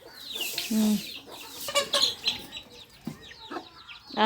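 Chickens and a hen cluck and squawk at close range in a house during Pongal festival cleaning, with repeated sharp calls rising and falling in bursts and little talk.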